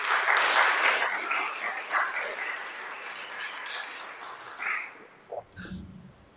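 Applause from an audience at a Shabbat sermon gathering, a dense wash of clapping that holds steady for several seconds, then thins out and fades, leaving a few scattered sounds.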